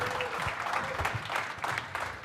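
A live audience at a celebrity soiree claps for an interviewer, a short burst of moderately close applause with a few individual claps standing out and a voice briefly heard over it.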